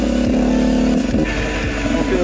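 A 2010 Husqvarna 125 WRE two-stroke motorcycle engine runs steadily up close, holding a droning tone with shifting revs and a brief change in pitch partway through, with no talk over it.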